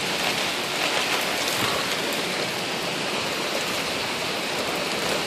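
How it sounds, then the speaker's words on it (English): Heavy windswept rain falling in sheets during a Queens thunderstorm, a dense, steady hiss and patter of water close by, with no thunder or voices standing out. "It's sheets of rain."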